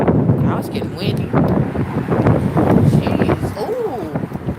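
Wind gusts buffet the microphone outdoors at night, a constant rough roar with people talking underneath.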